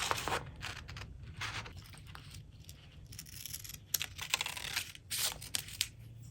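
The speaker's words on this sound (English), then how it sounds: "So we're gonna cut it out" Scissors snip through a paper template for a Christmas village house, giving quiet, irregular crisp cuts and rustles close by with no voices.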